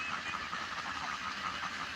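A group of ducks, kept as farm poultry during a severe heat wave, quack in a steady, continuous chorus, moderately faint and close together, with no voices over them.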